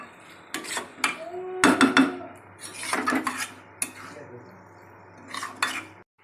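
Metal utensil scraping and knocking against a pot while chicken biryani meat is stirred, giving irregular close clatters and scrapes with short pauses, no talk.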